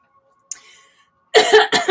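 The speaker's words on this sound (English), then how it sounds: "Sorry about all the coughing" A woman coughs in short harsh bursts, two or three close together near the end after a soft breathy sound and a stretch of near silence with a faint steady hum.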